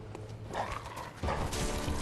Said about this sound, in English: And we find some more dogs.